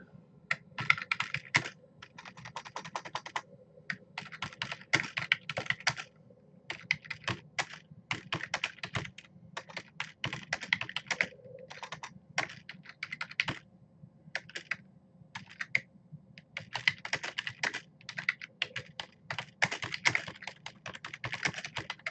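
Rapid clicking of computer keyboard keys in uneven bursts with short pauses, close up and fairly quiet, no voices.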